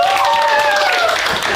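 A room of high school students claps hands in a short, steady burst of applause, with a voice calling out over it.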